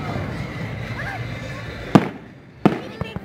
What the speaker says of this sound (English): Can you make firework?